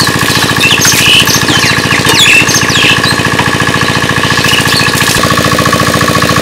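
A village water pump machine runs close by with a loud, steady, rapid thudding engine beat that repeats without pause, with no one talking.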